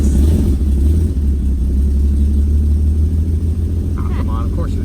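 A car engine roars continuously at wide open throttle, loud and close with a heavy low rumble throughout, and a voice briefly speaks near the end.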